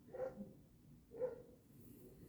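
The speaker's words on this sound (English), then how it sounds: "dogs outside." Dogs bark outside, two faint muffled woofs about a second apart, distant and soft against a quiet background.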